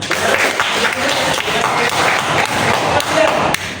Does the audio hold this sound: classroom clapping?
yes